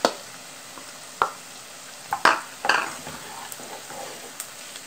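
Cold bacon frying with onion, garlic and salt in a pan gives off a soft, low hiss, broken by a few sharp scrapes and clinks of stirring. No one talks.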